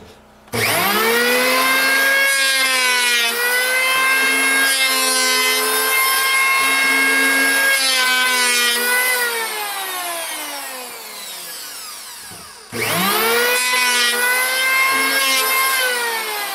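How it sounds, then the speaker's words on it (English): A planer shaves a warped wooden coffee coaster blank flat in long, loud, close passes, a strong whining motor tone whose pitch sags and recovers under load, with a brief pause before the next pass. "I gotta get the feel of this planer again."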